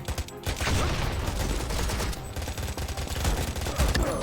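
Gunfire from the video game World War Legion, including a shotgun, roars without a break in a dense, loud barrage of overlapping shots and blasts.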